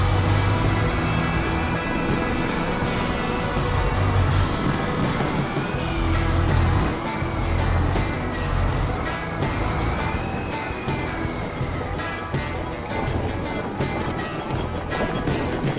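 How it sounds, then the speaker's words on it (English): A vehicle engine in Farming Simulator 25 roars loud and steady throughout, a dense rumbling drone with a faint rising and falling whine on top, with no speech. "the engine sounds are really loud"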